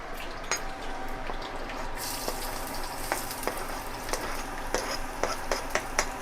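Green chillies and curry leaves fry in hot coconut oil for a Kerala bitter gourd stir-fry, a soft sizzle under regular sharp clinks of a spoon stirring the pan.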